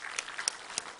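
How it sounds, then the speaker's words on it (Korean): A church congregation at a Sunday morning service claps to welcome returning members. The applause is light and uneven, with a few distinct sharp claps standing out over a softer patter. "우리 박수로 환영하겠습니다"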